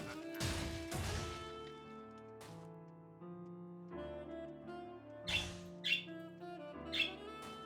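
Birds squawking in the video game Wizard of Legend, several short, sharp squawks in the latter half, quite faint, mixed with game music, crashes and hit sounds.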